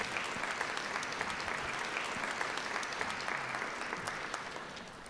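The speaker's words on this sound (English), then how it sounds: "It would be perfectly all right for you to applaud." An audience at a celebration of life breaks into sustained applause, a dense, even wash of many hands clapping that holds steady for several seconds before gently easing off.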